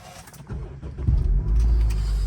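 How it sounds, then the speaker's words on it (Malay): A Honda Civic FB sedan's 2.0 i-VTEC engine comes to life after a push-button start, with a low rumble that swells partway through and settles into a steady, close engine drone. "So nak start kita just tekan brake and then start lah."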